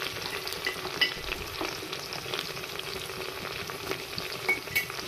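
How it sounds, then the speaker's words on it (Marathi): Onion sizzling in a pan with a little salt added, for a mix veg matar pulao, a soft continuous fry hiss with occasional stirring scrapes and clicks, close and fairly quiet, no voices. "कांदा फ्राय करताना त्यात थोडेसे मीठ घालावे, म्हणजे कांदा लवकर फ्राय होतो."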